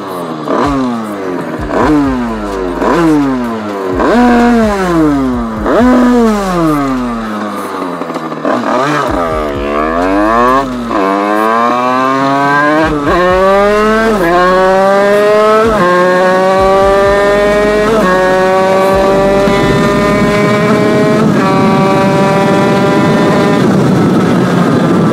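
A Top Perf 80cc motorcycle engine revs hard and repeatedly, pitch climbing and falling in rapid sweeps, then holds long rising high-rpm pulls, loud and close with no talk.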